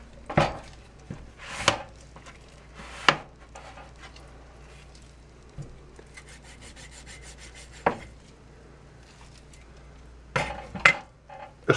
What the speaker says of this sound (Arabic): قص من ناحية اللحم الطري، لما بحس في عظمة بحاول العب حواليها